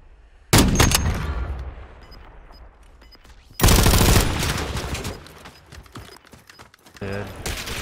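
Sniper rifle fire in Call of Duty Warzone 2 gameplay: two loud, sharp blasts about three seconds apart, each trailing off in a long rumbling decay, with further clattering near the end.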